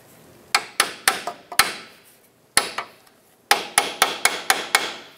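A hammer strikes a chisel driven into the back of a car's steering knuckle to spread it for lower ball joint removal on a 2008-2013 Nissan Rogue, sharp metallic taps in quick bursts with pauses between.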